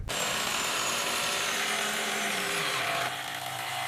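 GTM cordless impact driver and drill, IS12/120BL and IS18/320BL models, driving screws into wood on first speed, a steady loud whirring drive that holds nearly four seconds before dropping slightly in pitch near the end.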